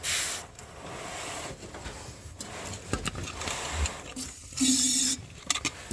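Hissing bursts of PB penetrating oil sprayed into the engine cylinders of a 1970 Chevy C10, close rushing spray sounds in several short blasts with small scrapes and handling noises between them.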